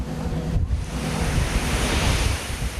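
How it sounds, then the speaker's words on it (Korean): Seawater from waves crashes and pours over the deck of a crab fishing boat working traps far out at sea, a constant loud roar of surf and wind with rushing water throughout. "파도가 칠 때마다 바닷물이 폭포수처럼 쏟아진다."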